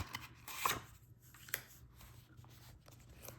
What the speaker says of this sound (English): So we'll take these little spacers out